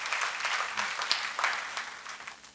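Sermon seminar audience clapping steadily, a dense patter of many hands filling the room at moderate loudness, ending in a sudden louder knock.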